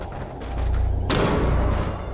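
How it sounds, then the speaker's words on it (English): Rapid automatic gunfire from a bright pink machine gun in the video game Rainbow Six Siege, loud and close, a sustained burst surging in the second half over continuous game noise. "Machine gun."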